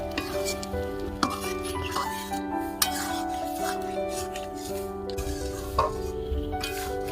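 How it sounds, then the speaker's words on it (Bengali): Papaya moong dal with ghee and a little sugar being stirred in a pot, with soft scraping and light clinks of a spoon over a faint sizzle and steady background music. "এবার আমি ভালো করে মিশিয়ে নেব।"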